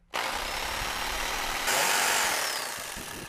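A handheld power jigsaw cuts wood for a homemade laptop stand, a steady high motor whine with a shift in pitch partway through as the blade bites, loud and close with no talking.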